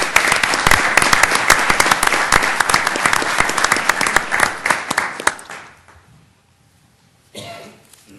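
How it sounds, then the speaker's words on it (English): Audience applause at a city council meeting fills the room with dense, close clapping for about five seconds, then fades into near silence before a short burst of shuffling or murmur. "if we could get a round of applause"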